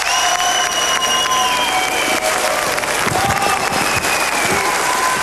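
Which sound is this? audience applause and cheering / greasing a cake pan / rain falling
audience applause and cheering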